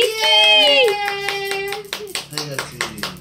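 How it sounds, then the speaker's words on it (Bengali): A family claps together at a birthday celebration, with a run of sharp, closely spaced handclaps under a sustained voice and lively chatter. "হাততালি দাও সবাই।"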